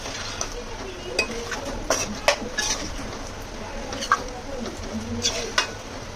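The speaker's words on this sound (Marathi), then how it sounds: "आधी चिकन मी जरा भाजून घेते, चांगल्याशा तेलात परतून घेते" Chicken sautéing in oil in a pan, a steady sizzle broken by scattered clinks and scrapes of a utensil stirring against the metal.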